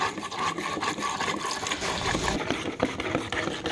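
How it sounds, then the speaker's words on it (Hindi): RO water poured slowly into black phenyl concentrate gives a continuous close splashing and trickling wash of liquid, steady throughout with no talking. "पानी आरओ का डालना है,"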